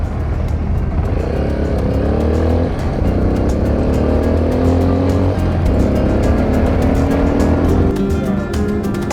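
A car cruising along a highway in the Brazilian backcountry, with loud steady engine drone and road noise, gear-like rising tones repeating every few seconds, heard from inside the vehicle with no talking.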